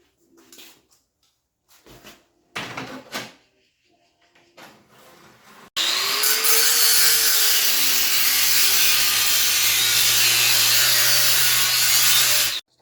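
A power saw trims pallet wood on a hope chest, starting after several seconds of scattered handling knocks and then whining loudly and steadily for about seven seconds before cutting off.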